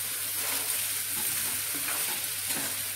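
Cut paneer cubes go into a hot shahi paneer gravy, giving a steady close sizzle with soft stirring and scraping throughout.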